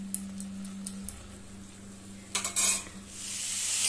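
Tomato puree simmers and sizzles in a pan for soupy noodles, a soft frying hiss with a few light utensil clinks and a scraping stir, the sizzle swelling louder toward the end.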